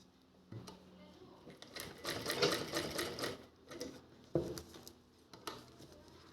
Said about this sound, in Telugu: ఇవి అటాచ్ చేసుకుని స్టిచ్ చేస్తున్నాను